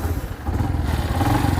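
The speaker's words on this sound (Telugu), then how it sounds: "సో ఇది guys helmet set and bike set start అయిపోవడమే" A Bajaj Platina motorcycle engine runs close by with a steady, rapid thumping putter and a faint mechanical clatter, with no voices over it.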